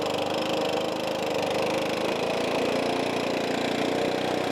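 A Stihl 4-Mix engine runs at a steady idle while its carburetor low-idle screw is turned in, a continuous close, even drone with no audible speech.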